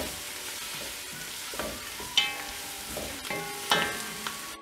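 Ginger garlic paste fries in a pan for chicken biryani, a low sizzle broken by a few sharp scraping stirs spaced a second or so apart, close and fairly quiet.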